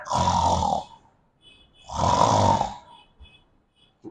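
A voice imitates loud snoring: two long, rasping snorts separated by a pause, close and forceful.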